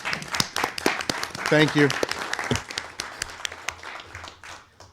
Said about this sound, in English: So I'd like to give her a round of applause for actually handling us.